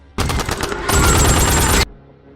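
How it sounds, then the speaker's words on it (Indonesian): Rapid automatic gunfire in a film erupts in a dense, loud burst lasting under two seconds, then stops abruptly into quiet background. "Mendengar suara tembakan"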